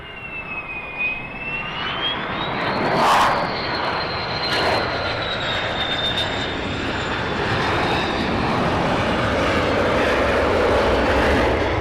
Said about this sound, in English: F-16 coming in.